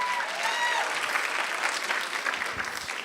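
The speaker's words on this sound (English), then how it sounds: "Give yourself a round of applause." Audience applause at a school health conference summit, a steady wash of moderate clapping from a room full of people, fading slightly toward the end.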